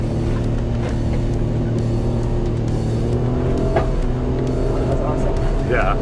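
A diesel Chevrolet Colorado ZR2 pickup accelerates at full throttle, a loud sustained engine drone heard from inside the cab, steady and unbroken for several seconds.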